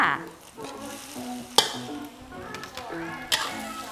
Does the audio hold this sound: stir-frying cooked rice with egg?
yes